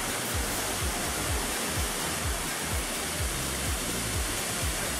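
A steady, dense roar of falling water from the Cola de Caballo waterfall near Monterrey, Mexico fills the scene, constant and loud without pauses.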